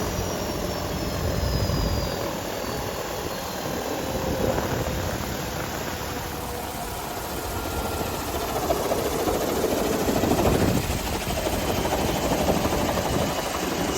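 An abandoned helicopter flying for the first time in 10 years, its engine shutting down: a steady, loud turbine whine and rotor roar holding at a broad, even level, with a faint high tone fading partway through.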